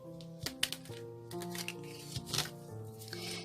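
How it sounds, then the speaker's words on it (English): Cards shuffled by hand during a tarot-style card reading: a few quick, crisp riffling clicks and taps, close but soft, over quiet background music with sustained tones. "One more shuffle, they tell."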